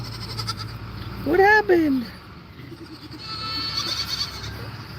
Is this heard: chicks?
no